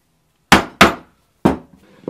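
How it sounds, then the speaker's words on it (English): A 1-inch hole punch hammered through a 3/4-inch leather strap: three sharp, loud strikes, the first two quick together and the third after a pause, then a few lighter taps. "This is a 1-inch punch that I'm using on a 3/4 inch strap"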